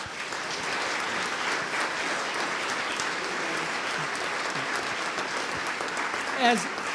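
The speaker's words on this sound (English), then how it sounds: "please give our panelists a round of applause" Sustained applause from an audience fills the room, steady and even for several seconds, with a brief louder clap near the end.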